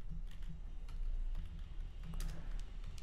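Rapid keystrokes on a computer keyboard while entering a shadow root locator in Playwright code, a close, steady stream of clicks with a few louder taps and no voices.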